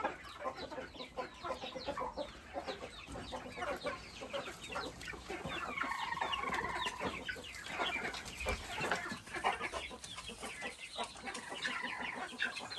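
Chickens cluck steadily in a chick nursery pen, with several birds calling over one another at close range and no talk.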